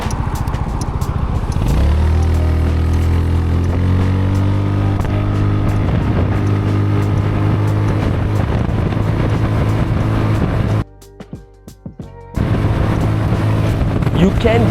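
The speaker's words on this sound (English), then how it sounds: "For a 368cc bike, this thing accelerates like an absolute beast" A Zontes 368G 368cc motorcycle, loaded with a 45-litre top box, accelerates hard, its engine note climbing through the revs, dropping briefly on a gear change, then pulling strongly again; loud and close.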